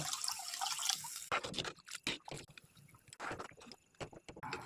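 Water poured over frying tomatoes for an egg curry in a pan makes a hiss, then gurgles and splashes. Bursts of bubbling and sloshing come in uneven clusters, close up.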